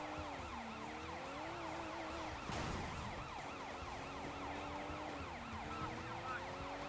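A police car siren in the video game Sleeping Dogs wails up and down continuously and loudly, layered over a steady engine and traffic rumble, with no one talking.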